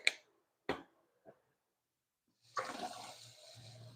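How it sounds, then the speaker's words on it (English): A few sharp clicks and taps, then water gushing steadily into a cooking pot at close range, continuing to the end without speech. "Put a little bit more water in there"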